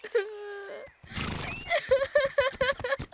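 A horse neighs loudly and close in a shrill, wavering whinny, then snorts and gives a longer rising-and-falling neigh with a rough, breathy texture.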